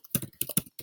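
Quick burst of typing on a computer keyboard while entering a domain name: a few rapid, close, crisp key clicks in an uneven rhythm, with no talking.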